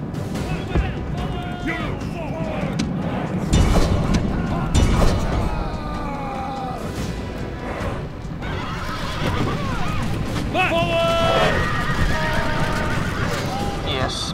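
Horses whinny repeatedly amid a Rome: Total War battle, with shrill neighs over a dense din of hooves, clashing and battle noise, while shouted commands break in now and then.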